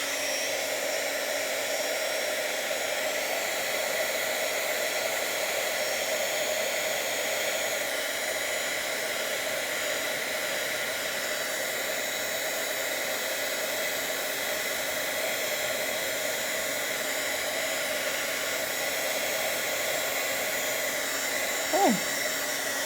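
An embossing heat tool blows hot air in a loud, continuous, even whoosh with a steady hum underneath, running unbroken throughout, with a faint brief squeak near the end and no talking.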